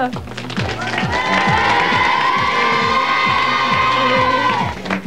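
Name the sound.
audience cheering hip hip hurrah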